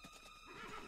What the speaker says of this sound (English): I think you're supposed to hide behind the horse as it moves.